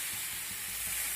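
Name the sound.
water poured into frying lentils and potatoes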